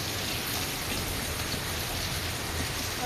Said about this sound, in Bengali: আজকে বাইরের আবহাওয়ায় অনেক বৃষ্টি হচ্ছে